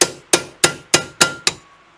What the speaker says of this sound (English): I just hit it with a hammer